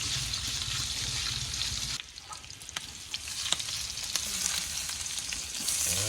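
Vegetables with bits of pork fat sauté in a pan, a steady close sizzle that drops in level partway through, then continues with scattered stirring clicks and scrapes.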